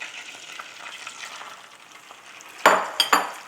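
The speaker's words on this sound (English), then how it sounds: "I'll let this saute in there till the onions get soft." Onions sautéing in oil in a Ghanaian clay pot give a steady, close sizzle, then a few sharp clatters of stirring against the pot near the end. No one speaks.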